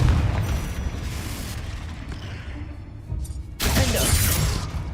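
The Confringo blasting spell goes off in Hogwarts Legacy: a crackling, shattering blast fades into rumble, then a second loud burst hits near the end.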